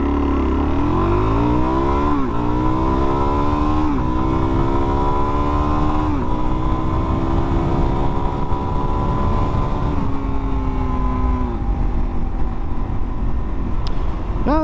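A 2022 Suzuki DR-Z400S motorcycle accelerates hard through several gears, its loud engine rising in pitch with distinct dips at each shift, close and alone.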